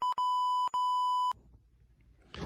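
Three loud, steady electronic beeps in quick succession, the last one longer, followed by a quiet rustle and a faint burst of noise.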